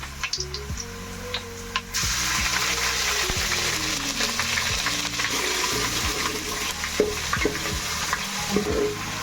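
Ginger garlic paste fries with browned onions in a pan for an Andhra-style fish curry, a steady close sizzle with scattered clicks and scrapes of stirring, no talk.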